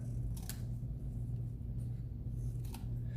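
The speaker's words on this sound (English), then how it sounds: "If you take an envelope and cut the ends off of it," Scissors cutting the ends off a paper envelope, heard as a few brief, crisp snips close by, separated by pauses over a steady low rumble.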